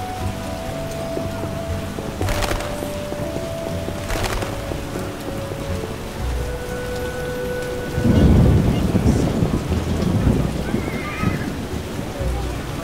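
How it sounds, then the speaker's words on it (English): Rain falls steadily in The Witcher video game as thunder rumbles and swells loudly partway through, with a tonal music line and sparse ambient sounds over the downpour. "Why must it rain?"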